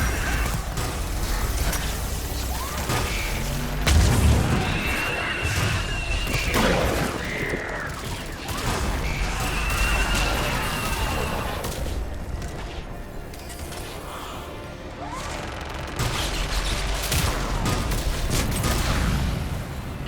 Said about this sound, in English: That's it for the missiles.